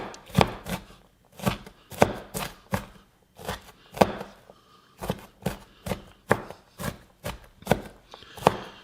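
Green onion chopped with a knife on a cutting board for chicken ramen, about twenty sharp close taps in quick bursts with brief pauses between runs.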